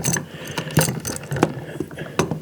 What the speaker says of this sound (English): we're going to go ahead and we're going to tighten the other screw up